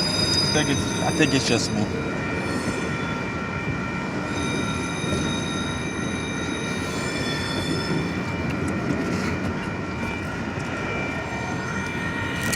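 A Union Pacific manifest freight train rolls into a south rail yard, a steady rumble with long metallic wheel squeals and ringing tones, heard from nearby while someone speaks briefly over it.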